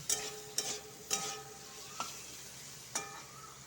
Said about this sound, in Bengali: ভালো করে আলুটা ভাজবো